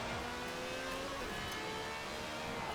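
A Lexus LFA engine in an online racing video game drones steadily at close range, with a sustained whine that shifts pitch as the car runs, heard alone without talk.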